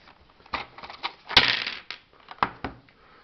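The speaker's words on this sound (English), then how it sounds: "So as you can hear, they make quite a noise, but you don't need these dice." Several dice rattle and tumble across a table in the Hercules & the 12 Labors board game, heard as a series of sharp clattering bursts with one louder rolling clatter in the middle and brief pauses between throws.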